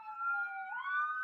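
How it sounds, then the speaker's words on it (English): An ambulance siren wails steadily as it passes nearby, its two-tone pitch sweeping and shifting upward partway through, loud and alone with no talking. "I tried to mute myself while this ambulance went by."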